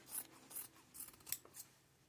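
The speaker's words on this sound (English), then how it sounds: "So then I'm going to cut this off just past that." Scissors cut through a piece of heavy fabric similar to denim jeans, a few quiet crisp snips in quick succession against near silence.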